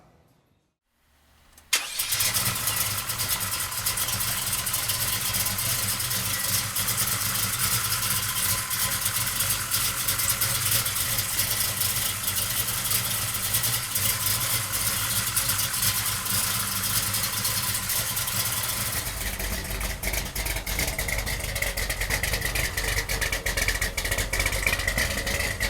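A 1970 Chevrolet Chevelle's 572 V8 cranks and catches after a short silence, then settles into a loud, steady, deep idle that rumbles on without pause, its tone shifting slightly toward the end.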